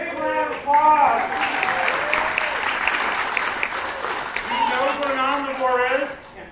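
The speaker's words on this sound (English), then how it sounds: "Big round of applause!" Children at a talk about a Florida box turtle give a big, lively round of applause, with excited voices and squeals rising over the clapping near the start and end.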